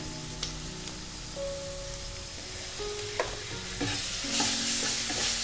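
Masala from four packets of Maggi noodles is stirred in a pan, a soft steady sizzle under occasional light utensil taps and scrapes, growing a little louder toward the end, close and without voices.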